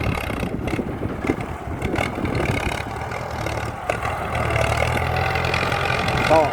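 A tractor pushing soil to build a field access path, its engine running in a steady, throaty mid-range rumble with slight rises and dips in load, close and continuous throughout.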